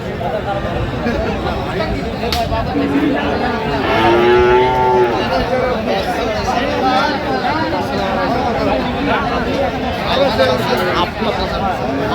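A Friesian bull calf moos once, loud and close, amid the chatter and crowd babble of a busy cattle market at Aftabganj in Dinajpur.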